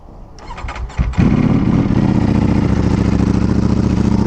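An aftermarket Acura exhaust on a sport motorcycle cranks briefly, catches with a sharp burst at close range, then settles into a loud, steady, rumbling idle.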